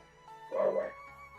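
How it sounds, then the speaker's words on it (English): A dog gives a short, yipping bark, a single brief burst over quiet background hum. "more dogs coming"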